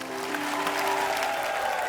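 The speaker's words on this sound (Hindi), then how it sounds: "एक बार प्रभु सर, तमन्ना और सोनू बाजी के लिए जोरदार तालियां।" A studio audience claps loudly for guests on a comedy show stage, a dense continuous burst of applause with faint voices and tonal sound underneath.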